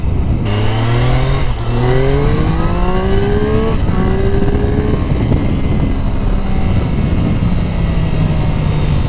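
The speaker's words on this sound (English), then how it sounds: "that was pretty much full throttle in second gear, and I got up to what, 60 miles an hour" A Triumph Street Triple RS motorcycle accelerates at full throttle in second gear, its engine note climbing loudly in rising sweeps broken by quick gear changes. The roar stays close and dominant, with rushing wind underneath.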